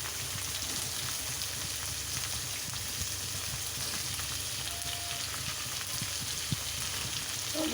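Potatoes and cauliflower fry in a pan with a steady, dense sizzle that runs unbroken throughout, close and fairly loud, with faint stirring clinks and no talking.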